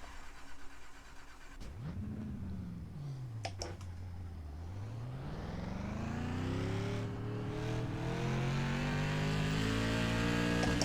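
An SK Modified race car in a racing video game at Concord fires up with a click and surge, dips to a low rumble, then climbs in a long, steady rising rev as it pulls away onto a lap.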